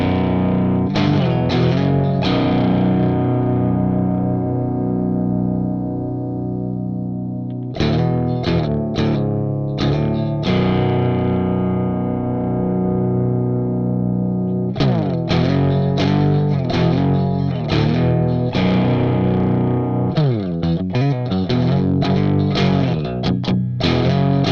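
Electric guitar through an Electro-Harmonix Tortion JFET overdrive pedal on its second, heavier stage, playing chugging metal riffs with sustained distorted chords broken by tight palm-muted bursts, loud and alone.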